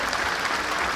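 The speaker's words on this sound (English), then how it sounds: "can we give a big round of applause for Martin, who actually produced this statue" A crowd at the Women of Steel statue unveiling in Sheffield applauds the sculptor, a brief, dense burst of steady clapping close by.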